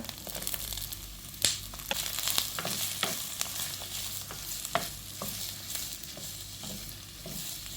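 Onion, ginger, garlic, curry leaves and green chillies fry in hot oil for a Kerala-style curry, a loud crackling sizzle with repeated scraping stirs and sharp pops close by, no speech.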